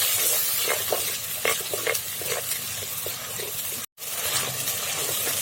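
Shallots sizzle and crackle as they sauté in a pan, with a steady frying hiss, scattered stirring clicks and a brief drop to silence near the end before the hiss resumes.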